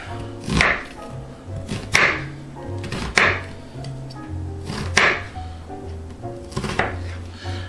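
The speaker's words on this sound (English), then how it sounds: "Easiest way to cut an onion is to cut it in half, like that, and just take it and slice" A kitchen knife slices through an onion half on a cutting board for chicken soup. About five separate, sharp chopping thuds come at uneven intervals, close up, with faint background sounds between them.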